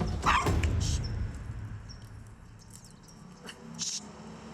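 A dog gives a few sharp barks near the start, then quieter yips trail off against a soft room background, fairly close and without talking over them.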